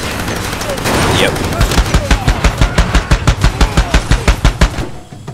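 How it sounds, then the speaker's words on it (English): Heavy machine gun fire in the Far Cry 2 video game, a loud rapid burst of evenly spaced shots that continues for several seconds before stopping. "Maybe put a heavy machine gun on it."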